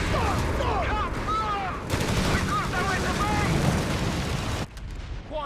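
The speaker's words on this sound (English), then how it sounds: "Enemy fire!" Rapid gunfire from British forces in Company of Heroes 3 multiplayer, a dense, continuous rattle of shots and battle noise with soldiers shouting over it, dropping off abruptly near the end.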